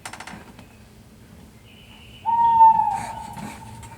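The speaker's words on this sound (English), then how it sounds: "It was the owl that shrieked" A single owl-like shriek rises suddenly and holds as a sustained, piercing tone, fading out after a second or so amid faint background noise.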